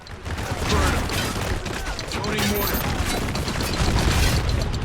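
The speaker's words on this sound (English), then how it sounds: "I can hear the aftermath, the destruction, the gunfire, the screams" Gunfire and explosions in the game Spec Ops: The Line rumble and crackle steadily, with bursts of shots and booms layered over a constant chaotic din.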